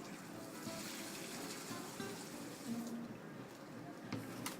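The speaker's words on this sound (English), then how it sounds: "you're going to pour 2 quarts of water" Water pours steadily over coffee grounds for cold brew, a faint, continuous gushing and trickling that stays fairly quiet throughout.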